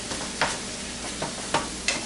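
Fire roasted tomatoes are stirred into browned meat in a pan: a soft, steady simmering sizzle with several brief scraping strokes of a spoon at irregular intervals, close and moderately quiet.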